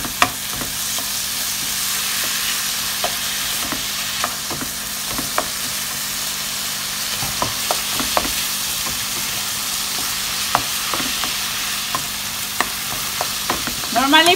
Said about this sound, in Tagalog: medyo naluluto, nagbabrown na rin ang ating carne.